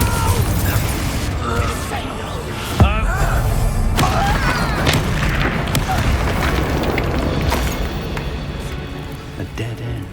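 In the Hogwarts Legacy video game, a Confringo blasting spell gives a sharp booming explosion, with rumbling debris, magical whooshes and game effects around it, while character voices speak over the mix.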